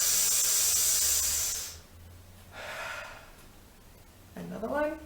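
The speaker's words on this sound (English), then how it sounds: "really suck in and draw that air in" Air drawn hard through a narrow breathing straw as a resistance exercise, a loud steady hiss at first, then a softer second pull and a short rough intake near the end.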